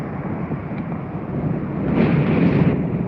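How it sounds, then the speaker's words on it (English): Wind rushes in broad, low buffeting gusts across the microphone while someone rides a Onewheel outdoors, swelling louder midway. "It's pretty windy for me."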